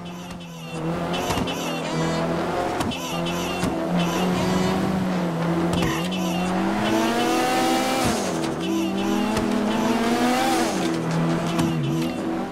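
Cars racing in GTA V: a steady, loud engine drone with shifting revs and pitch swells throughout, with tire squeals and skids over it.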